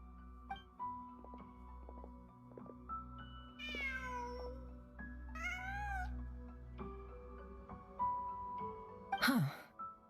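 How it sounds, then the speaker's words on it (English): Several distinct cat meows from the Genshin Impact video game ring out one after another over a quiet background hum of game ambience, with a final sharper, louder cry near the end. "Huh. Just a cat."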